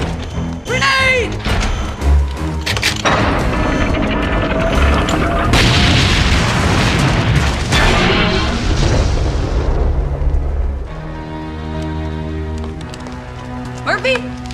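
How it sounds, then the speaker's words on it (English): A grenade explodes in a RoboCop action scene with a heavy booming blast and rumbling debris, mixed with shouting voices, dramatic music and a lingering roar as the blast dies away. "Grenade!"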